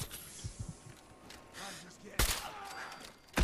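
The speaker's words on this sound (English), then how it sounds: "Dude, the gun sounds crazy," Gunfire from the video game Fallout 4: a sharp, loud blast in the middle, followed by a few rougher bursts and shots, with softer game noise and a faint voice around them.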